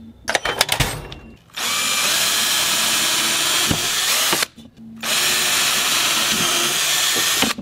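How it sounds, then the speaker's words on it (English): A power drill pre-drilling holes in pine whirs in two sustained bursts of several seconds each, close and loud, with a short pause between them and some handling clatter at the start. "I'm gonna pre-drill some holes real quick."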